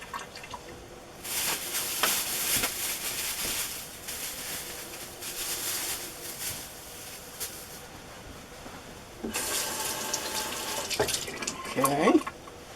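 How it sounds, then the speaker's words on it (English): Kitchen tap running water over Anaheim peppers being rinsed, a close splashing stream that starts and stops in bursts with handling noises between. "I'm going to cut up my Anaheim peppers. Give them a nice rinse first."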